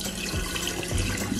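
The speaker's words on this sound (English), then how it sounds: "make sure to clean the rice with some water first to remove any dirt and impurity" Water swishes and splashes steadily as raw rice is rinsed to clean off dirt, a continuous close running-water sound with no voices.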